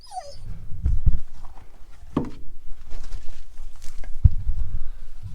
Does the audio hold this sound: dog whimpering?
yes